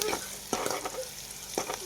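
Chopped onion tempering with cumin and asafoetida sizzles in a pan for kadhi, with a soft steady fry hiss broken by a few scraping stirs.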